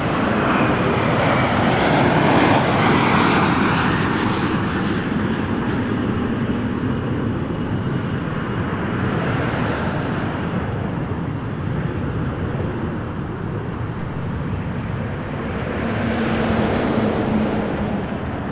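An Endeavor Air airliner spools up and begins its takeoff roll on runway 24 right at Toronto Pearson, a broad, steady jet roar that holds loud throughout with slight swells, no voices.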